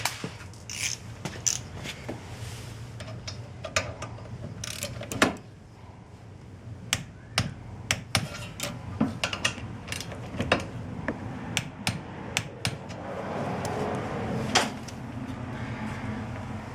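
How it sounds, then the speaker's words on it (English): Bolts on 2014 Ford Escape rear brakes are tightened with a ratchet and torque wrench, giving irregular bursts of sharp clicks and creaks close by, with a short pause partway through. "I'm going to torque these down to about 20 foot-pounds."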